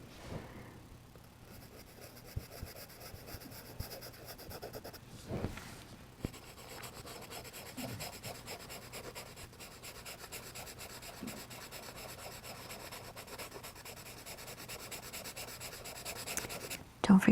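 Pencil moving across paper while sketching a dog's outline, a soft continuous rubbing and scratching texture that stays steady and close for most of the stretch, with a few brief louder bumps.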